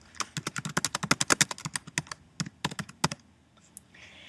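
Rapid bursts of crisp keyboard clicks, typing in quick irregular runs with short pauses, then falling quiet at the end.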